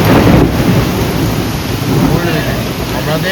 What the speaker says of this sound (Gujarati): હમણાં આ જે ટાવર છે ને, આ ટાવર પર વીજળી પડી, આખું સ્પાર્ક થયું